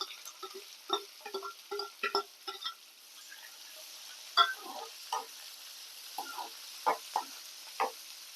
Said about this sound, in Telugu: బాగా కలపాలి కొంచెం వేగాలి